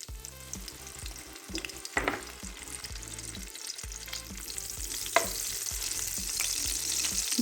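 Oil and butter sizzle steadily in a frying pan, a close, continuous crackle broken by occasional scraping stirs.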